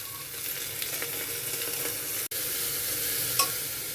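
Mung dal and rice sizzle in a pan with carrot and green chili for Bengali-style bhuna khichuri, a steady close hiss with soft stirring scrapes and one brief dropout.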